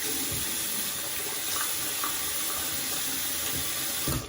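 Water running steadily from a tap into a sink as hands are washed before tattoo aftercare, a continuous close splashing stream without speech.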